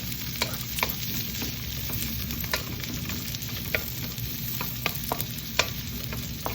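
Plenty of garlic sautéing in hot oil with onion, a continuous close sizzle and crackle broken by sharp spatula scrapes and taps against the pan at an uneven rhythm.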